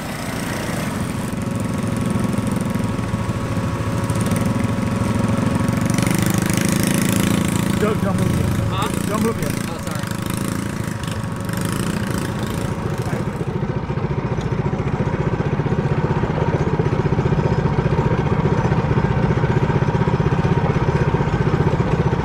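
A Trailmaster 125 off-road bike runs at a ranch test day, its small engine droning and buzzing steadily for the whole stretch, close and loud, with people talking over it.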